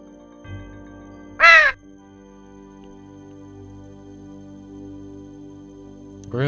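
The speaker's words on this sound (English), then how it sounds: "Ruining this beautiful moment with the sound of crows." A crow sound effect gives one loud, harsh caw over a quiet background hum, and a second caw begins right at the end.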